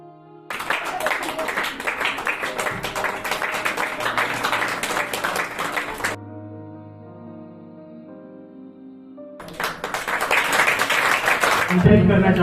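An audience claps loudly and steadily at a ceremony for the eighth batch of a free sewing centre, pausing while soft music plays, then breaking into applause again.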